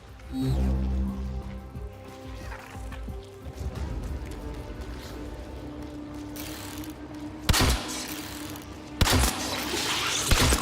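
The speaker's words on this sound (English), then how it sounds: "Hive located. Destroy it with weapon fire." Weapon fire against a hive in the game Warframe comes as dense bursts of rapid shots and mechanical clatter, mixed with game music and effects, with loud blasts near the end.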